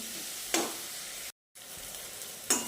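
Spinach-and-paneer ingredients roasting and sizzling in a pan for palak paneer, a steady broadband frying hiss with a couple of brief stir bursts and a short dropout midway.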